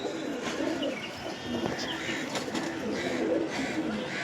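Mirabbala pigeons coo softly and repeatedly in a dense, noisy setting with other birds chirping around them; the cooing is steady but not prominent.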